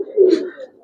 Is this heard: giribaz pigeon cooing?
yes